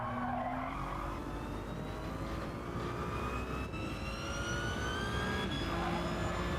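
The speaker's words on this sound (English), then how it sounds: "a bit of the sound of the Ferrari as well" A Ferrari Gr.1 prototype race car engine in Gran Turismo 7 screams at high revs, its pitch climbing and shifting through gears in a steady, loud roar with no pauses.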